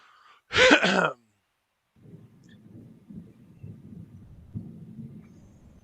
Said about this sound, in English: Did I just hear thunder again?